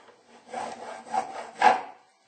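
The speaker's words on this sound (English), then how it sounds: "as soon as it touches this feeler gauge, I hear this distinct little noise" A file rasps in short strokes in the string slot of a bone nut on a banjo, the last stroke brushing a feeler gauge with a small, faint scrape; the sound is quiet and close.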